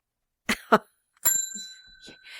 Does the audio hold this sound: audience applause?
no